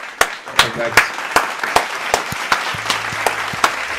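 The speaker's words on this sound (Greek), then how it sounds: "Χειροκρότημα και για αυτό." A few hands clap in sharp, separate strikes at a steady pace on a Greek gaming talk show about the PS5. The claps are close and distinct rather than a crowd roar, with a faint low hum beneath.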